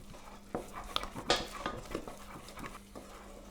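Flour tipped all at once into hot water, milk and melted butter for choux pastry and stirred in a pan, a series of close scraping and knocking strokes against the pot, with no talk.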